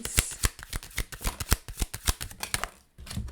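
Tarot cards being shuffled by hand, a rapid run of crisp riffling slaps and flutters, close and fairly soft, with a short pause near the end.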